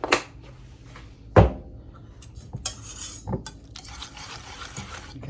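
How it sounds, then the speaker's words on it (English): Spoon mixing cream cheese and squash casserole ingredients in a bowl, with a sharp clack against the bowl followed by softer scraping and occasional light knocks. "So I'm going to mix, mix, mix."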